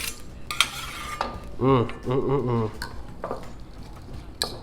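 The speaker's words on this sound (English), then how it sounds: "Just mixing them up a little bit right now." Hash browns are stirred into three scrambled eggs in a bowl, with wet squishing, utensil scrapes and taps against the bowl, while someone talks briefly in the middle.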